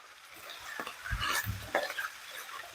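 Cheesesteak casserole filling with melting cheese is stirred in a pan on the stove, giving soft scraping and clinking strokes over a faint sizzle, close up, with no talking.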